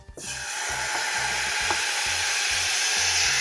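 Oil sizzling and crackling in a saucepan while cooking chicken, a steady, loud frying hiss that starts almost at once and holds throughout, with faint utensil clinks and no talking.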